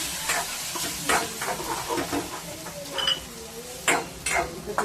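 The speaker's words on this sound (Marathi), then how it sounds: "त्याच्यामध्ये आता हे शिजवलेली भाजी वगैरे घालून घेते" Cooked vegetables for pav bhaji being stirred in a frying pan with chilli powder, a steady sizzle under repeated scraping strokes of a spoon, close and clear.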